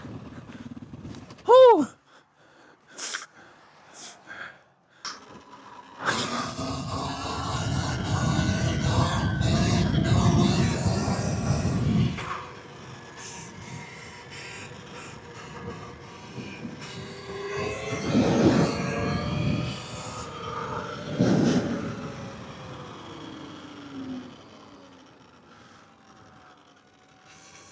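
A Yamaha WR450F dirt bike is ridden outdoors during wheelie practice. The engine revs in loud surges with rising and falling pitch and settles between bursts under wind noise, and a rider's voice exclaims early on.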